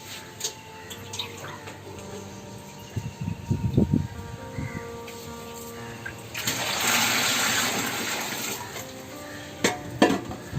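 Water sloshes and splashes as it is scooped from a guppy fish tank, with faint clinks of a container, a louder swirling pour in the middle, and brief handling knocks near the end.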